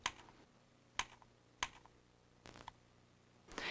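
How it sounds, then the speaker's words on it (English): An Apple Newton handheld gets tapped with a pen on its on-screen keyboard, a handful of faint sharp clicks spaced irregularly, with a quiet steady hum in the background. "you can use an on-screen keyboard to tap out the word or number you are writing"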